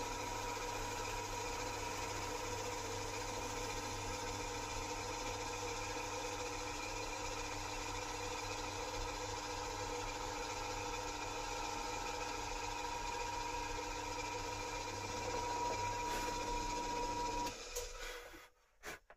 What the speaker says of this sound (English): we're going to flip the drill on, and we're going to take it straight through the two of them.